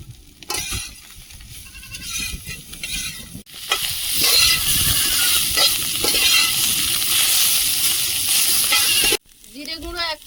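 Fish and potatoes fry in a pan as slit green chillies and chopped tomato are added, a steady loud sizzle with stirring scrapes that cuts off near the end.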